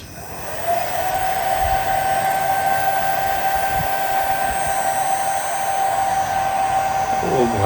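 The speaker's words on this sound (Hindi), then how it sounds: "ठीक है, अब इसका कूलर ऑन करते हैं अपन।" A homemade air cooler built from a water bottle runs with a steady, close whirring fan hum and an airy hiss. A constant motor tone holds throughout, with a brief rise at the start and a short voice near the end.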